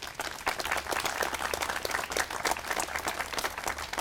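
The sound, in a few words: audience applause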